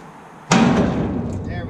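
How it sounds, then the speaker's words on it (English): A hammer strikes the side rail on a Ford F350 pickup bed, landing one sudden, loud metallic bang that rings on briefly before fading under steady background noise. "let's go grab a hammer and see if we can knock that rail off"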